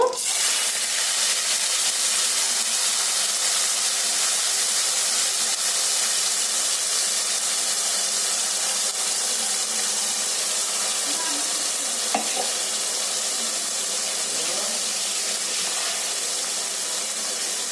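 A puree of two green chilies, two tomatoes and one large onion fries in a pan for a chicken curry, giving a steady, loud, close sizzle with stirring noises throughout and no talking.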